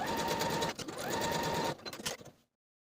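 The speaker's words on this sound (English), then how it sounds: "Now I'll sew these pieces together from the large dot, back stitching to secure, with a 5/8 inch seam allowance to the bottom of the back bodice" A sewing machine runs steady bursts of stitching along a back bodice seam, a close, even motor whir that pauses briefly, restarts, then slows and stops.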